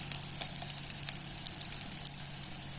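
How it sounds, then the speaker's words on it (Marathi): Capsicum frying in oil in a pan, giving a faint, steady, hissing sizzle scattered with small crackles and pops, close by and without any talking. "तेलात ठेवायची. चांगली लाल परतून घ्यायची."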